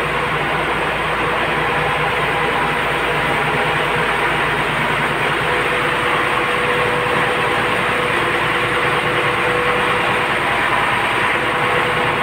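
A ro-ro ferry's engine in Surigao, fitted with a fuel combustor, is heard close at its exhaust: a loud, steady, unbroken mechanical drone with deep rumble and a constant hum, with no talk.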